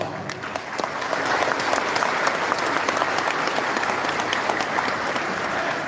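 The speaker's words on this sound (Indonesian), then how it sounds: "Sekali lagi beri aplaus." Sustained audience applause fills a hall at a political party's national working meeting, a dense, even wash of clapping that swells slightly and continues steadily throughout.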